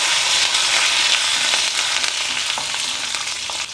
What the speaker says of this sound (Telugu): వేయించాలి ఈ పోపుని చక్కగా ఎర్రగా వేగనివ్వాలి శనగపప్పు మినపప్పు ఆవాలు వేగేయండి